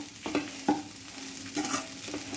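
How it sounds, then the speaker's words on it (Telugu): Sweet corn upma being stirred in a hot pan, with a handful of distinct scraping strokes over a soft, steady frying sizzle, close and alone. "ఇలా కలుపుతూనే ఉండాలి, కింద ఫ్రై కాకుండా ఉండడానికి"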